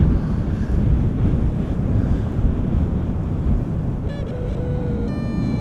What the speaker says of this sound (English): The wind is blowing from the northeast.